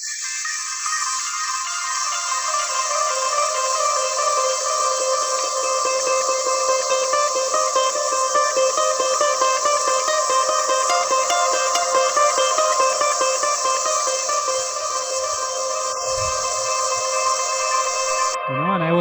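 A sustained tonal synth pad with layered harmonics swells in and keeps shifting in color through an EQ and delay fade effect in Ableton, ending in a brief decaying tail.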